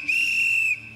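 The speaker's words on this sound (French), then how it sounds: "c'est pas un coup de sifflet de gendarmerie" A single steady, shrill whistle blast lasts under a second in an indoor game-show studio, alone and loud before cutting off.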